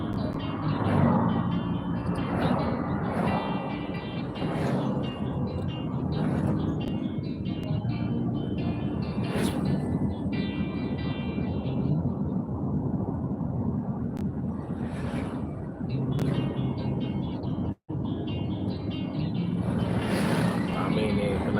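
Busy road traffic heading toward Palembang in the city of Prabumulih, South Sumatra, a continuous loud rush of passing vehicles with engine drone swelling and fading, heard near the road while a person talks over it.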